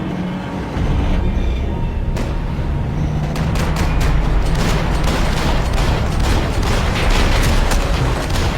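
Gunfire rattles through a Max Payne 3 cutscene, a loud, dense stream of rapid shots and cracks over a constant roaring background that runs for several seconds without speech.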